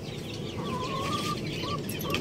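An Aseel hen clucking in a rooftop coop, a few soft, low calls heard faintly against a steady background hum, with no talk.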